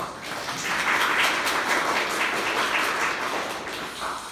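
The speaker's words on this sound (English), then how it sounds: "Can we get a round of applause for our" An audience at a presentation applauds the invited guests, a dense, steady wash of clapping that swells slightly and holds for several seconds before easing off.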